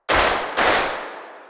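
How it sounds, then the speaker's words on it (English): Two massive layered claps from a Keepforest Berserkr Pro epic trailer drum library preset, each a loud, sharp crack with a long reverberant tail, the second following about half a second after the first and fading out slowly. "select a massive claps preset"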